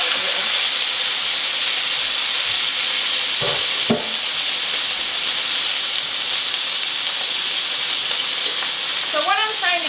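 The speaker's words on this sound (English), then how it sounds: "I'm going to take our beef here, if I can get it off the plate, and I'm going to brown it in the oil here" Beef browning in hot oil in a pan for a Moroccan beef stew, a loud, continuous close sizzle and hiss with a couple of brief clatters as the meat goes in, with no voices.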